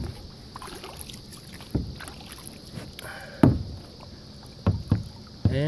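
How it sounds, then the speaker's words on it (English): A kayak tows a loaded boat full of gear across a lake in Normandy, with intermittent paddle splashes and water sloshing against the hulls, fairly close, over a steady outdoor background. "We had to drag it with a kayak"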